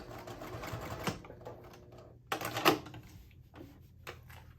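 A sewing machine stitches zipper tape along lined-up fabric panels of a color block wristlet: a steady, rapid mechanical whir with a few sharper clunks midway and near the end. No one talks.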